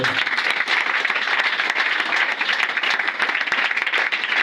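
An audience at a church worship and deliverance gathering claps in a continuous, dense burst of applause throughout, loud and close with no pauses.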